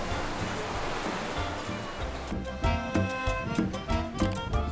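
Sea waves wash onto a beach at Las Canteras in Las Palmas, Gran Canaria, a continuous broad rushing surf with rhythmic surges, fairly loud and with no talk.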